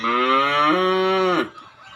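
A single loud, close cow moo from cattle on a farm, a long drawn-out call that drops in pitch partway through and ends abruptly, leaving quiet farmyard background.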